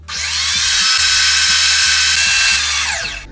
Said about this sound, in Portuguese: Nós vamos começar nossa receita batendo 3 ovos grandes na batedeira por 5 minutos